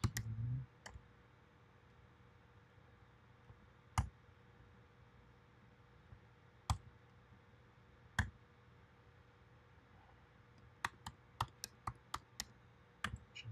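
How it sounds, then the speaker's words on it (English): Names are typed on a computer keyboard in a quiet room, with faint, sparse key clicks spread out and then a quicker run of taps near the end. "I'm just typing the names."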